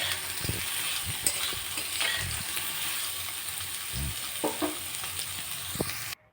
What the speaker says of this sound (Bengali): এবার নেড়ে চেড়ে ভালো করে ভেজে নেবো